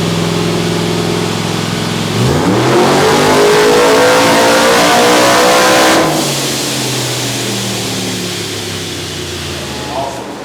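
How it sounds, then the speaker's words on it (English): A rock bouncer off-road buggy engine revs hard, its pitch climbing steeply and holding high before slowly winding back down; loud and close, with voices briefly over it. "it's still revving"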